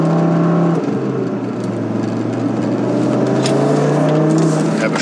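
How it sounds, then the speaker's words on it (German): A 560 hp Audi RS3 accelerates hard, its engine note rising loud and steady in a continuous surge close by, with no pauses through the pull. "Er beschleunigt hier wirklich einfach komplett sauber raus."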